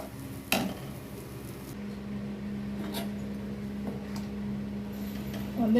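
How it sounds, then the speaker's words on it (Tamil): Chettinad egg gravy simmering in a pan, a steady low bubbling and hiss that runs continuously with a faint clink near the start and no voices. "இது இப்போ கொஞ்ச நேரம் நல்லா கொதிக்கட்டும்."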